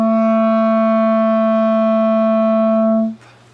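A clarinet sounds a single sustained low B, a steady clear reed tone held for about three seconds alone before cutting off.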